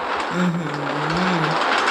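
A moving train in the Minecraft video game gives off a steady low hum and rumble at moderate loudness, running continuously with no one talking over it.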